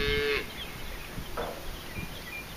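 A single low moo from calves sounds at a distance, followed by faint farmyard noises in a quiet outdoor setting.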